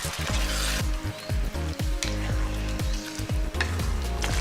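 Curd and garam masala stirred in a hot pan for a Hyderabadi dish, close sizzling with a steady run of spoon scrapes and knocks against the pan, fairly loud and alone.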